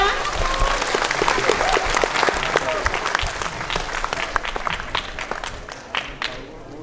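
An audience at a seminar applauds to welcome speaker Dewi Sandra, with dense, sustained clapping from a crowd that thins slightly toward the end.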